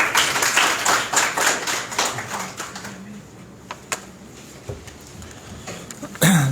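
Audience at an academic conference at Alhamd Islamic University clapping in a room, with sharp individual claps forming a fading, uneven round of applause that thins to scattered claps, before a louder final thump.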